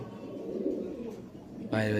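Pigeons kept for sale give low, throaty cooing close by, a continuous soft rolling murmur, and a person's voice breaks in at the end.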